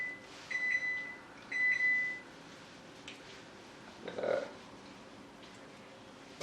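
A kitchen oven that has finished preheating gives two short, clear beeps close by, followed by quiet kitchen noise and faint handling sounds.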